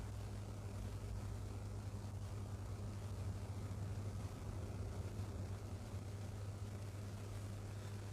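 Ford Mustang Mach-E GT accelerating on a drive, heard as a steady low electric drivetrain hum and road rumble inside the cabin, constant and fairly faint with no talk.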